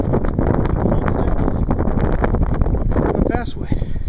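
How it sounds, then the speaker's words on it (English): Strong wind in the Great Smoky Mountains buffets the microphone at a backpacking camp in a constant loud roar, with gusty rumbling throughout and no clear speech. "It was very, very windy. Still is windy."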